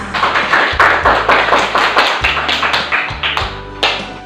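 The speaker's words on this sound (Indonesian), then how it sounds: "tepuk tangan dulu untuk kita semua" A class of first-grade schoolchildren claps their hands together in a steady, rhythmic pattern, each beat a loud, even thump-like clap close at hand, with no talking.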